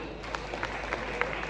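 Applause from a stage-event audience, steady and fairly soft, a broad wash of many hands clapping with a few sharper claps standing out.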